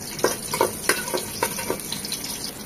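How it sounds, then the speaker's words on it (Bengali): Garlic and bay leaves sizzle in soybean oil in a pan, a steady close frying hiss broken by a few soft clatters of stirring. "প্যানে দিয়ে দিচ্ছি 3 চামচের মতো সয়াবিন তেল, দিয়ে দিচ্ছি দুটো তেজপাতা, একটা ছোট রসুন পুরোটা দিয়ে দিচ্ছি"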